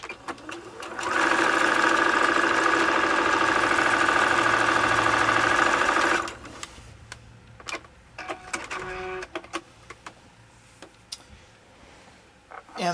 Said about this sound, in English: I'm going to start up at the top corner and sew down to the bottom